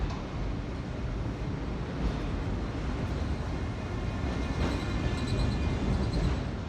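Continuous rumbling clatter of a train rolling over a bridge at London Bridge, heavy and sustained with faint metallic squeals near the end.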